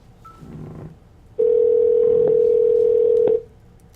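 A steady telephone tone sounds while a house phone is being called back, holding loud and unbroken for about two seconds after a faint earlier tone.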